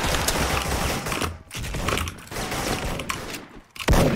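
Sniper rifle gunfire and mechanical action from the online shooter Special Force, dense and loud with rapid sharp reports and clicking across a short busy stretch.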